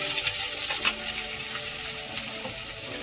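Onions dropped into hot oil with reddened cumin seeds sizzle hard in a wok for fried rice, a loud, continuous close-up crackling hiss with small pops and no voices.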